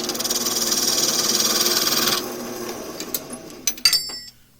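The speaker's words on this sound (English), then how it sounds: "I'll use a bull gouge, unhandled, and pull cuts." A wood lathe spinning while an unhandled bowl gouge makes pull cuts, a steady humming whir with scraping texture for about two seconds, then fading to scattered knocks and clicks before stopping.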